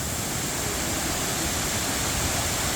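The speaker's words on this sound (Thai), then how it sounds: "นี่คือภาพที่น้ำไหลลงมา เป็น คลื่นน้ำสีขาวๆเนี่ย" Khlong Lan waterfall in Kamphaeng Phet, with water pouring down in a steady, loud, broadband roar that holds constant throughout with no voices.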